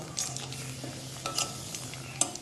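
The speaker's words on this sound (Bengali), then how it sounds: "এখন আমি তেলের মধ্যে কালো জিরে ও শুকনো লঙ্কা ফোড়ন দিয়ে দেব।" Nigella seeds and dried chillies sizzle in hot oil while frying for a Bengali pabda fish curry, with a steady low crackle, occasional stirring clinks against the pan and no speech.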